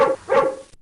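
A dog sound effect in a PowerPoint animation: two quick, loud, close barks in rapid succession, then silence.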